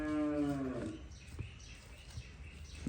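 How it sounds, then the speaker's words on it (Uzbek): A cow or heifer in a shed gives one drawn-out moo that fades after about a second, followed by quieter shuffling and faint background noise. "Rosa sigir qiladigan hunajinlar ekan"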